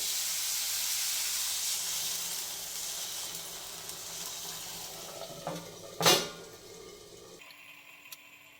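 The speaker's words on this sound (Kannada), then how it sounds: "ಈಗ ನೋಡಿ ಸ್ವಲ್ಪ ನೀರು ಹಾಕ್ತಾ ಇದ್ದೀನಿ" Water poured into a hot pan of green chilli chicken sizzles and hisses steadily, softening over several seconds, with a brief louder splash near the end and no talking.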